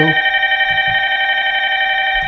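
A telephone rings steadily and loudly for a couple of seconds, a bright electronic ringing tone with faint background knocks beneath it and no voices.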